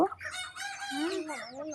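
Native hens and a mother hen with her chicks call continuously, with overlapping clucks and pitched fowl calls rising and falling at close range, moderately loud throughout.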